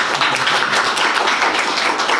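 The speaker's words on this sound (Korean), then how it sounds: "박수 한번 주십시오." Audience applause at an indoor backcountry lecture event, loud, dense clapping sustained steadily throughout the short stretch.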